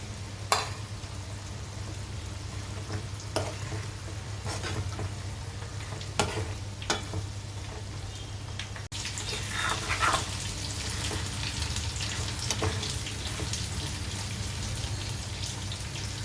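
Ivy gourd (dondakaya) masala curry simmering with water under a lid, a steady soft bubbling sizzle with a low hum beneath and occasional sharp clinks, continuous throughout and fairly quiet.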